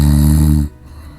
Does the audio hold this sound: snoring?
yes